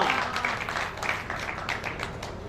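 Audience applause at a Hindi comic poetry gathering (kavi sammelan) after a poem recital, a dense steady patter of many hands with some murmuring voices mixed in.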